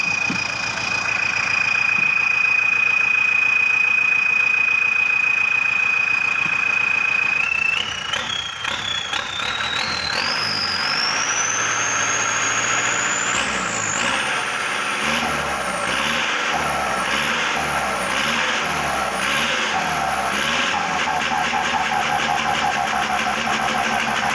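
An L5018 tractor engine fitted with a turbocharger runs loudly and steadily, then revs up as a high turbo whine climbs in pitch and settles into a rhythmic rising-and-falling pulse, with no talk over it.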